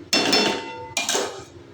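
Two sharp metallic clanks ring out close by as a lid is set onto a pot of pubda fish cooking with tomato, each clank followed by a short ringing decay.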